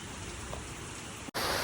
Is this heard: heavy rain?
yes